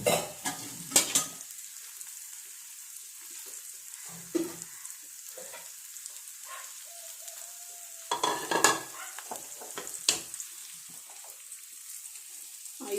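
Jackfruit pieces for biryani fry in oil, a quiet sizzle under intermittent scraping and stirring clatters and occasional clinks of a utensil against the pan, with no speech.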